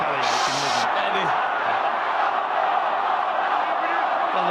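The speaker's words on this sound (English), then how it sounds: "the crowd in the South Stand are chanting off" Rugby league crowd in the South Stand at a Leeds Rhinos versus Manly Sea Eagles World Club Challenge match, a distant, sustained roar of chanting voices heard under a commentator's talk.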